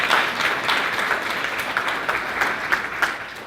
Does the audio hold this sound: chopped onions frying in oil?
no